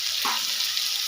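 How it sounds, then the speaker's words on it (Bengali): Potatoes frying in hot oil for a mutton curry, lightly salted, giving a steady close sizzle with a brief soft stir or clink partway through. "কারি রান্না করার জন্য আলুটা ভাজে নিই।"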